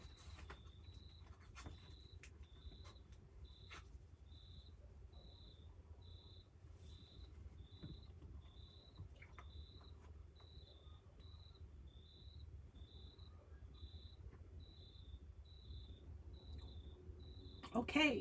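Crickets chirp in a regular repeating pattern against low ambient outdoor noise, the high pulses steady throughout.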